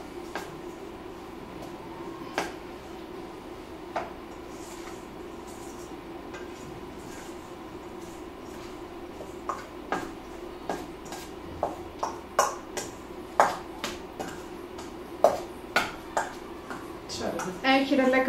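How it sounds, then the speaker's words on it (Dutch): A spoon works courgette batter with flour, breadcrumbs and cheese in a bowl, giving soft scrapes and light clinks against the bowl that grow more frequent and louder toward the end, over a quiet kitchen background. "En dan gaan we dat mengen."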